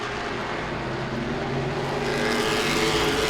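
Late model race cars roar around Langley Speedway in a continuous, loud engine drone, the pitch swelling slightly as the pack pulls through the turns, with no break in the noise.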